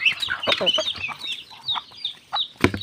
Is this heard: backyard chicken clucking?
yes